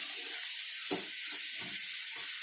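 Pounded cluster beans frying in a pan make a continuous close hiss and sizzle, with a few softer stirring bumps underneath and no speech.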